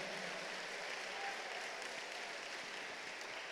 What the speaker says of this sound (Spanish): Fuerte ese aplauso de alabanza al Señor.